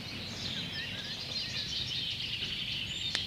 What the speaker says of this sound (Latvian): Un tas ir mušķērājs.